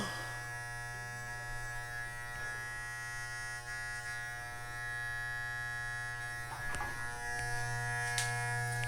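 Electric hair trimmer edging the corners of a hairline, a steady close-up buzz that lasts throughout, with small shifts in pitch as the blade touches skin.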